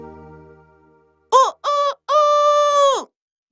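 A cartoon rooster perched on a farm fence crows in three rising bursts, loud and close, after a soft sustained tone fades out.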